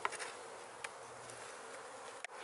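A steady, close buzz of honeybees released from a package during hive installation hums throughout, continuous and moderately loud, with a couple of brief knocks.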